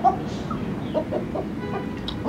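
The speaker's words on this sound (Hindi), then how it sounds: "माशाल्लाह मुर्गी देखो यार, कितनी खूबसूरत मुर्गी है" A hen gives soft, short clucks at irregular intervals, close by, over a faint background murmur.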